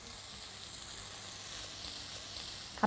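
Chicken sizzles steadily in a frying pan with cream added, a soft continuous hiss carrying on for a few seconds, with a brief scrape of stirring right at the end.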